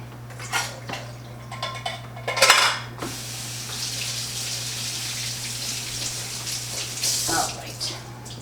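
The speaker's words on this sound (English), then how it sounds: "Run them under cold water." Chickpeas are rinsed under cold tap water: a few clinks of a pot and utensils come first, then a steady splashing stream runs continuously, close and moderately loud.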